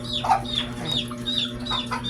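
A chicken clucks repeatedly in short, uneven bursts nearby, with a steady low hum underneath and no talking.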